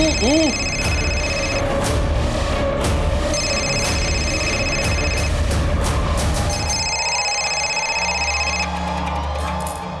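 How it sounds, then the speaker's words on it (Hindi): A mobile phone rings in repeated bursts over a busy background of chatter and crowd noise at a Holi gathering, fairly loud and steady throughout. "अरे मेरा फोन बज रहा है"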